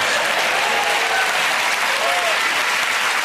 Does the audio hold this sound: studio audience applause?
yes